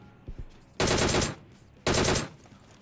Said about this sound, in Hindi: ओह कोई गोली चला रहा है